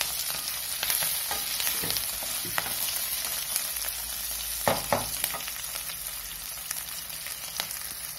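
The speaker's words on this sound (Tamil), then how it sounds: "நல்லா வதக்கணும்." Ginger and spices sautéing in a pan for ginger curry (inji theeyal): a steady, close sizzle and crackle of frying with occasional stirring scrapes, no voices.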